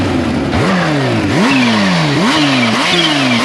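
A supercharged Kawasaki H2 Carbon motorcycle engine revs hard nearby, several sharp throttle blips climbing and dropping back in quick succession, loud and with no talk.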